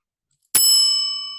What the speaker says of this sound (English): And you also hear a bell that sounds like this